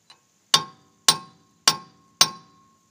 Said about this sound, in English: I figure you start chiseling that, you'll weaken some stuff, and then you can hammer from there